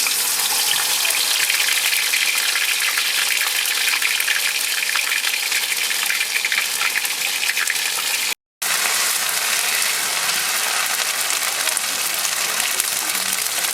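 Ginger paste frying in a kadai for a mixed winter vegetable dal, after dried red chilli and whole cumin, gives a steady, loud broadband sizzle throughout with one brief cut in the middle and no talk.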